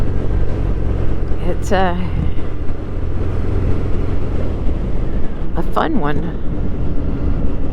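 A 2022 Harley-Davidson Street Bob motorcycle rumbles steadily while riding along foothill roads, a loud continuous engine drone with wind noise, as someone talks over it.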